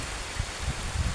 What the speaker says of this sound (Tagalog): Kusog yapon ulan.